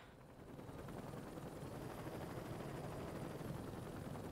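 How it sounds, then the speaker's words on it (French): Helicopter in the video game Saints Row 2, a steady droning rotor and engine roar that holds loud and constant throughout, with dense broadband noise and no speech. "hélicoptère."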